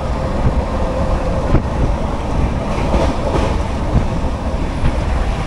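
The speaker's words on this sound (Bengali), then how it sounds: "তো ট্রেন খুব দ্রুত গতিতে চলছে" An Indian Railways express train, the Kriya Yoga Express with a WAP-7 electric locomotive, runs at high speed, heard from inside a coach as a loud steady rumble with faint rhythmic wheel clicks and no speech.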